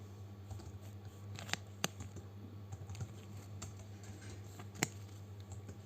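Python code being typed on a computer keyboard: quiet, irregular key clicks with a few sharper taps over a steady low hum, no talking.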